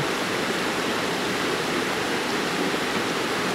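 Small waterfall on Nile Creek in the woods, a dense, steady roar of falling water heard close and loud, unbroken for the whole stretch with no other sounds.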